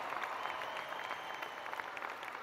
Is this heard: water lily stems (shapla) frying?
no